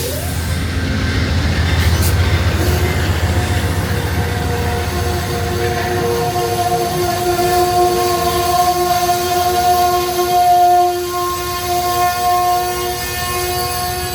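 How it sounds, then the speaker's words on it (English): A southbound Amtrak Northeast Regional train hauled by a P42DC diesel locomotive rumbles past close by at Ashland, Virginia, sounding a long sustained horn midway through, with steady rolling wheel noise throughout. "a southbound Amtrak Northeast Regional train number 67 bound for Newport News, Virginia."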